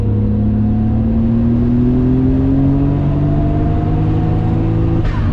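A Nissan R32 GT-R with HKS twin turbos makes a steady, loud pull on a dyno, its engine tone climbing smoothly and continuously with a turbo whoosh near the end.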